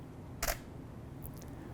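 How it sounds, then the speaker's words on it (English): Single-lens reflex camera shutter firing once for a test exposure, a sharp close mechanical snap followed by a faint softer click moments later, set against a quiet indoor room. "what I'm going to do is just take a test exposure"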